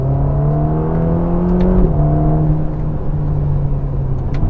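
Front-engined Ferrari Roma in sport mode, its engine note loud and steady from the cabin, with a brief shift in pitch partway through, like a gear change, before it carries on.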